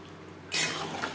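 Water poured into a simmering hilsa fish curry with mustard, poppy seed, potato and eggplant, a sudden splashing gush starting midway over a low background hum, then settling into a steady pour.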